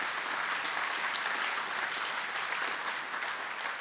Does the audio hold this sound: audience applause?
yes